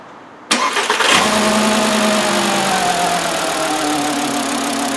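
A 2009 Volkswagen Jetta 2.5L with a bad ignition coil and misfire cranks briefly, catches and settles into a loud, continuous idle, close up.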